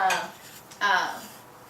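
Plates and silverware clatter in a temporary kitchen set up during a remodel, two short bright clinks of dishes and cutlery close by.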